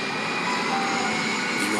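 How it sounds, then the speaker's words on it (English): An airplane passing low overhead as it prepares to land, a loud continuous roar with a steady droning whine that fills the whole moment. "The ground trembles as the plane roars overhead."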